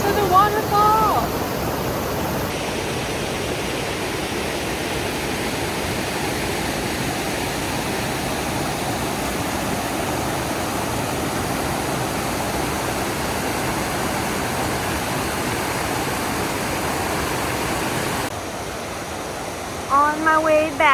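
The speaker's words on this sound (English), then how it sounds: "we made it to the waterfall." A waterfall in Killarney National Park pours as a constant, dense rushing roar, loud and steady from start to finish, with brief faint sounds at the edges.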